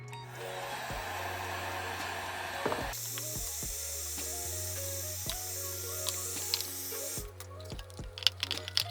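A go-kart carburetor hose is warmed with a heat gun or hair dryer, a steady blowing whoosh with a pitch shift partway through, then clicks and handling noises near the end.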